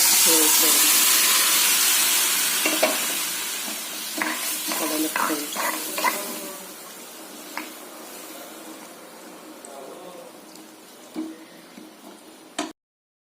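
Chickpeas fry in a pan with coriander powder, chili powder and garam masala. A loud hiss at the start gives way to softer sizzling with scattered stirring scrapes and clicks, and the clip ends with a sharp knock.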